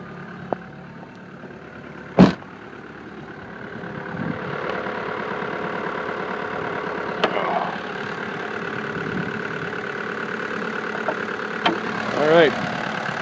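A 1996 VW Jetta's 1.9-liter turbo diesel idles with a steady low clattering hum nearby, broken by a few sharp isolated bangs.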